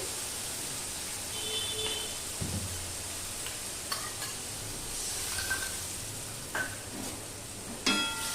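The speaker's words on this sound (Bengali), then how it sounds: "মশলাটা দিয়ে এবার কষাবো একটু" Spice paste sautéing in a pan for an elephant-foot-yam kofta kalia: a steady, soft sizzle with scattered scrapes and clinks of a spoon stirring against the pan, fairly quiet and close.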